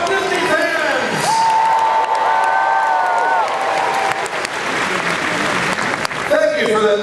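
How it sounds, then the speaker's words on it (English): Warm audience applause and cheers at the 2013 D23 Expo Disney event as a historian takes the stage, a dense crowd roar under a speaking voice, continuous throughout with whoops rising near the end. "Thank you for that very warm applause"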